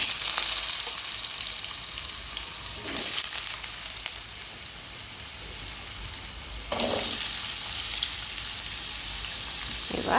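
Potatoes fry in hot oil tempered with cumin seeds and bay leaf for ghugni, a loud, steady crackling sizzle with a few sharper surges as the pieces are stirred.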